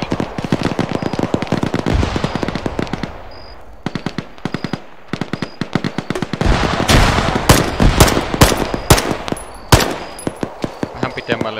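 Bursts of automatic and single-shot gunfire from the military video game Arma, loud and close, coming in rapid rattling volleys separated by short pauses, with brief radio-style voices in between.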